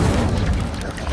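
In the video game Hogwarts Legacy, the Incendio fire spell lets out a loud, booming burst of roaring flame that stays strong for about a second.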